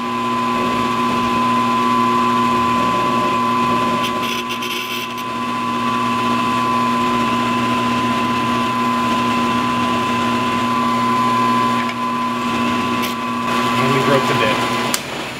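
Drilling an AK barrel with a drill bit: a steady, loud whirring motor drone with constant tonal hum runs throughout, with a few brief grinding bursts and clicks near the start and end.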